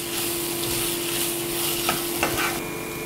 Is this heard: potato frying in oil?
yes